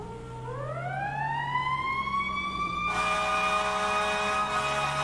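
A loud fire truck siren in the game EmergeNYC wails and rises in pitch, then blares steadily alongside an air horn blast, with a rumbling engine underneath, in Manhattan.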